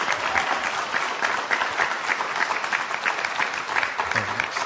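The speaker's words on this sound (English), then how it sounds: "I would like us to give a round of applause to Cam" A round of applause from the audience at the close of a talk on valuing lives and normalization, continuous lively clapping at even strength from start to finish.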